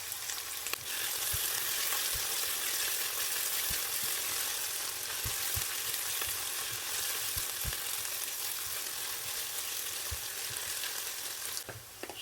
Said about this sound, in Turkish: Soğanlarımız kavrulduktan sonra bir yemek kaşığı kadar salça ekliyoruz.